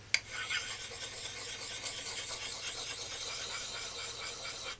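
A Gransfors Bruk Scandinavian forest axe has its ground edge polished with burrs still on it, a quiet, close, steady rasping scrape that continues for about five seconds.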